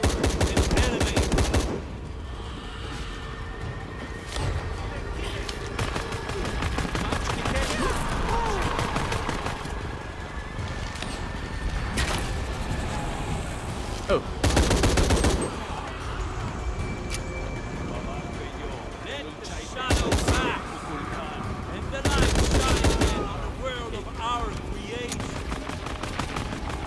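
Gunfire in Shadow of the Tomb Raider: loud, dense bursts of shots recur through the scene over a constant game background, with several heavy blasts standing out, and a voice speaks during the action.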